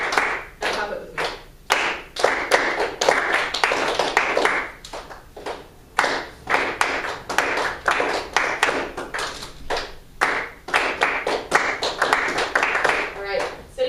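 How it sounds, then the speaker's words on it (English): Many people in a rehearsal clap a rhythmic pattern in unison, clusters of crisp claps separated by brief pauses, loud and near, with some talking mixed in. "And clap it with me"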